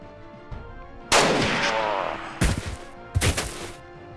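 Gunshots in the video game Jagged Alliance 2 come as three loud, sharp reports spaced about a second apart, each with a long, echoing tail, over a quiet background.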